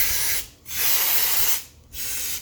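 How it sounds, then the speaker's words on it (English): Brake cleaner solvent sprays onto clutch parts from an aerosol can in two strong bursts with a short gap between them, close and loud with no talk. "I'm using a little brake clean, a little solvent there to get it going"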